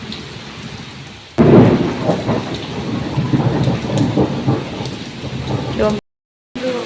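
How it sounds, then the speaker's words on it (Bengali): A thunderstorm opens with a loud crack and rolling rumble of thunder over steady rain, which keeps falling until a short silent break near the end. "পুরো মেঘ ডাকছে দেখো।"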